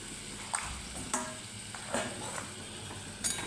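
Vegetables with a whole green chilli, salt and turmeric are stir-fried in a pan, giving a steady light sizzle broken by several sharp scrapes and clinks of a spatula stirring, close and moderately loud.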